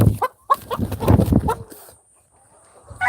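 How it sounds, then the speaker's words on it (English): Rooster clucking on a small farm, a close burst of clucks and squawks that trails off into quiet. "Is this my rooster that's in here?"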